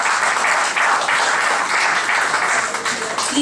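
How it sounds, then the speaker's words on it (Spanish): Sustained audience applause at an academic ceremony in a university research event, loud and dense throughout as names of graduates are announced, with no voices rising above the clapping. "Un fuerte aplauso, por favor."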